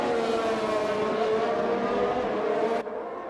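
A McLaren race car in a racing video game at Imola peels into pit lane, its engine a loud, steady high-pitched whine with strong harmonics holding close for about three seconds before cutting off abruptly near the end.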